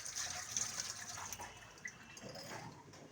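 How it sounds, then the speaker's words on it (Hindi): Tap water running steadily while utensils greasy with ghee are washed, a continuous close splashing wash with small clinks, no talking. "घी वाले बर्तन हमें धुलने पड़ते हैं"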